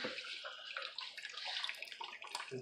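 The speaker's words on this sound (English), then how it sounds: "And then I'll have the filter dropping water down there." Water from a filter splashes and trickles steadily into a cheap homemade bait tank, a continuous bubbly patter with small gurgles, close to the microphone and without talk.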